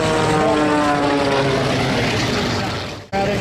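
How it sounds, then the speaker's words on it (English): Aerobatic propeller airplane with a 330-horsepower six-cylinder Avco engine and Hartzell propeller at an air show, a loud steady engine drone that holds for about three seconds before a sudden brief dropout. "It is powered by a more than 330 horsepower, 6-cylinder Avco light-building engine, turning a Hartzell claw propeller"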